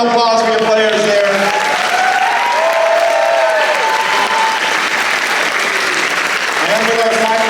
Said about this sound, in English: One more round of applause for your players there.